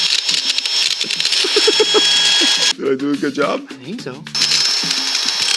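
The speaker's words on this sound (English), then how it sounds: "Drill some holes." A power drill whirs loudly and steadily while boring holes into a watermelon. It cuts out briefly while people talk, then starts whirring again.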